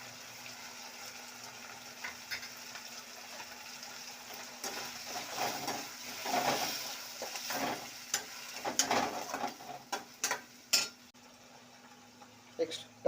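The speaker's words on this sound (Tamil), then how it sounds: "இந்த மாதிரி நல்லா சாட்டே பண்ணிக்கங்க" Chilli chicken sautéing with soy sauce, tomato sauce and pepper powder in a pan, heard as a steady low sizzle with repeated scraping and clinking of a spoon against the pan, louder stirring strokes toward the end.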